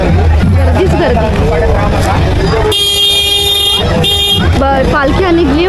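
A vehicle horn blares in a long sustained toot amid a packed crowd at a village temple fair in Kharepatan, loud and close over dense chatter and hubbub, with a second shorter blast just after.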